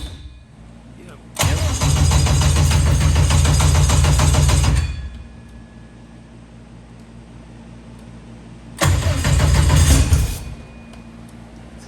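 K series jet boat engine starting with a ground problem: two loud cranking and firing bursts of a few seconds each, separated by a quieter stretch, with some talk in the background.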